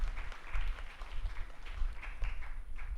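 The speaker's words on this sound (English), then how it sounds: "A big round of applause for entire organizing team." An audience applauding the organizing team at a hackathon, a steady wash of clapping with rhythmic pulses, fairly close and continuous.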